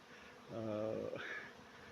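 A honeybee swarm hangs on an old cherry tree, giving a faint, steady buzzing hum with a brief louder drone as a bee passes close by. No one speaks.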